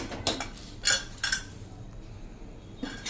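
A metal pressure cooker of spinach and pea khichdi is opened after its whistles and pressure release, giving a few sharp metallic clanks and scrapes of the lid against the pot, close and separated by quiet gaps.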